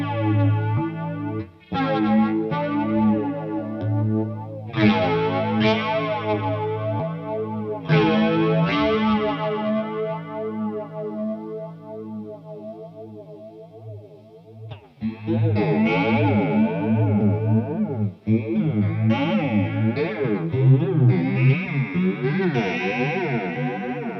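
Electric guitar runs through a PastFx 80/A flanger pedal with the enhance knob turned up, sustained chords swirling in a sweeping, jet-like whoosh, with a brief drop near the middle before a brighter, denser stretch, loud and without talk.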